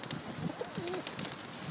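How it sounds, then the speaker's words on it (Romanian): Pigeons in a city square in Avram Iancu coo softly with a single low, rolling call, faint and distant against a steady outdoor hum. "haide să venim la porumbei, hai să mergem la porumbei"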